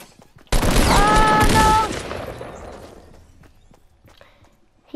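A sudden loud burst of gunfire in the battle royale game Fortnite, roughly a second of sharp shots that then die away into a fading tail and near silence.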